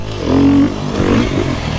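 A Beta RR enduro motorcycle, 250 or 350, revs up close and loud, with a rising engine note that drops back to a rough running drone while parts clatter.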